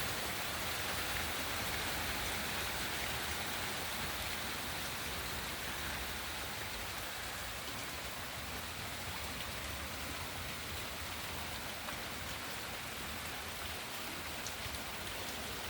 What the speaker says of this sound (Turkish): Nisan yağmurları.